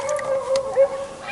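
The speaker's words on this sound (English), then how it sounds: "Always gotta be a dog." A dog howls near a riverbank catfishing spot, one sustained wavering howl lasting over a second, fairly close and clear with no talk.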